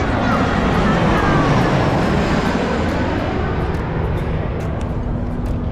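A jet airplane flies low overhead on approach near LAX airport, a loud, steady broadband roar that fills the whole stretch and swells slightly before easing off.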